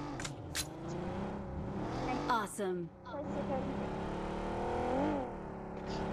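A vehicle driven in the mobile game BGMI hums and revs steadily under animated talk from a player, with engine pitch rising and dipping as it accelerates.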